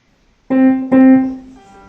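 Two clear musical notes played one after the other at the same pitch, the second following quickly and ringing out a little longer before fading.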